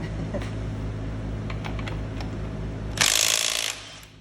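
A Milwaukee 3/8 stubby impact wrench on its highest setting, with a fully charged battery: low mechanical whir and faint clicks, then a loud, harsh burst of hammering near the end, close by.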